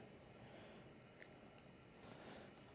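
Sufix leadcore fishing line being snipped, a quick faint cut near the middle and a sharper louder snip near the end, standing alone over a quiet room background.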